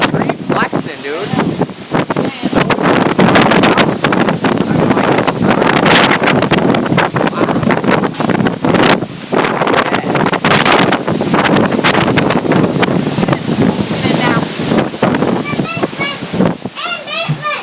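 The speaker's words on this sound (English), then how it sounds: "It's just 80-mile-an-hour winds." Strong storm winds gusting around 80 miles per hour roar loudly and continuously, buffeting the microphone with heavy turbulent noise, while voices shout briefly beneath the din.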